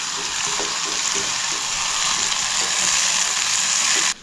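Tomato added to ginger garlic paste sizzles steadily in a pan, a loud continuous hiss of frying that holds evenly throughout with faint clinks, then cuts off abruptly at the end.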